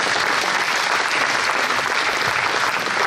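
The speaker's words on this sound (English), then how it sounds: "Please give her a loud round of applause." Loud, steady round of applause from the audience at a veteran fair at Evansville Wartime Museum, dense clapping sustained evenly throughout with no talk.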